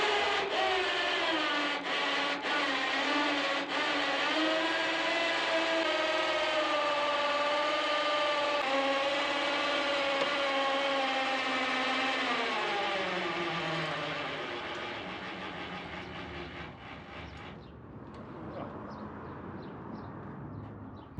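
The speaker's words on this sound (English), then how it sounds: "Apparently this takes a lot more winch power." Winch pulling a car onto a car trailer, a sustained whining motor drone with steady tonal harmonics that sag in pitch under load, then tapering off and stopping near the end.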